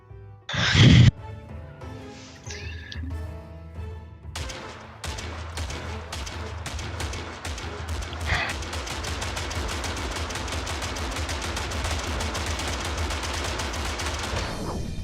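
A Gatling gun in a video game fires rapid continuous bursts, opening with a few sharp shots and then a long, dense, steady rattle that carries loud to the end.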